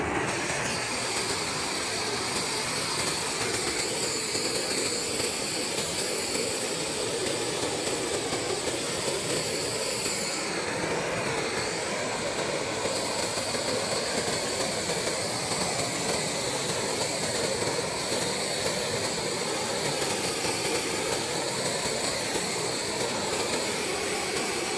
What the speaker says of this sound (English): But I'm going to burn this stuff off and clean it up.